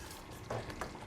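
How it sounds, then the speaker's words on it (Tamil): A pan of garlic pepper kuzhambu curry bubbles and sizzles softly, with a couple of brief pops standing out over a low, steady simmer. "குழம்பு நல்லா கொதிச்சிட்ருக்கு."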